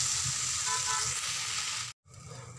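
Besan chilla batter frying in oil on a pan over low gas, a steady close sizzle that drops out abruptly for a moment near the end before resuming.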